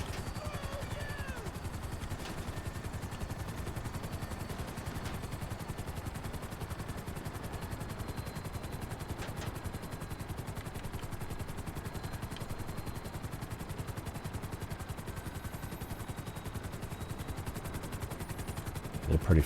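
Gunfire in GTA Online during a heist run: dense, steady crackle of automatic shots and clatter running throughout, loud and continuous.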